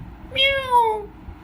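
A cat meows once in a drawn-out, rising then falling cry during a read-aloud children's story, clear and close over a quiet background.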